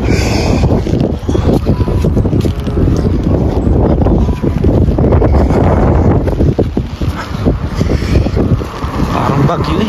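Strong, cold wind at Smoky Lake, Alberta, with rain starting, roaring and buffeting hard against the microphone almost without pause, while someone speaks at times under the gusts.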